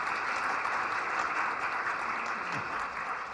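Steady, moderately loud applause from an audience at a university anniversary lecture given by the Seoul mayor, continuous throughout with no break.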